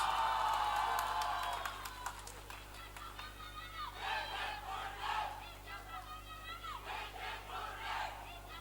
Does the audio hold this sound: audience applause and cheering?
yes